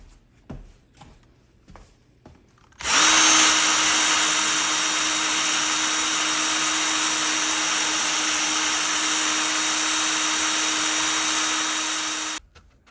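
A power drill with a worn, slow-cutting bit bores a hole in a door for new hardware, a loud steady whine running about ten seconds after a few brief knocks, then stopping abruptly.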